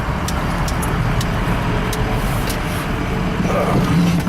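A Ford 6.0-litre diesel truck engine runs loud and close while being driven on a test drive, producing a steady rumble with road noise and no talking.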